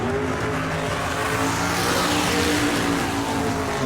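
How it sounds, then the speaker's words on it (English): A no-prep drag race car does a burnout at a street racing starting line, a loud, continuous engine roar mixed with hissing tire spin, steady and close throughout. "We do a burnout. His car sounds amazing."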